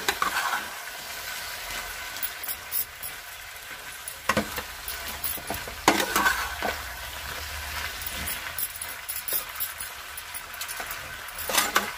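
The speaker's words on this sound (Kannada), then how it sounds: "ಈಗ ಇದನ್ನು ಒಂದು ಸ್ವಲ್ಪ ಚೆನ್ನಾಗಿ ಮಿಕ್ಸ್ ಮಾಡಿಬಿಟ್ಟು ಮತ್ತೆ ಒಂದು ಸ್ವಲ್ಪ ಮುಚ್ಚಿ ಬೇಯಿಸೋಣ" Potato and brinjal palya is stirred in a hot pan, the scraping spoon and occasional metallic clinks sounding over a continuous sizzle, fairly close and with no voices.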